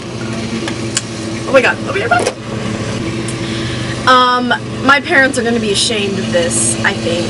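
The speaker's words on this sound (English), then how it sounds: "Damn you, lawnmower!" A lawnmower runs outside as a steady mid-pitched engine drone throughout, somewhat distant, with a person talking over it in the foreground.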